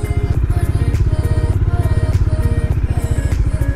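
A motorcycle rolls back in neutral on an uphill road in Leh, Ladakh. Its engine clatters steadily nearby in a fast, even pulsing idle that runs loud and unbroken the whole time.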